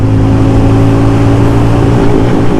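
A Hero Mavrick 440 motorcycle revs hard at full throttle, its engine roaring loud and close in a steady, continuous drone as it pulls through the gears.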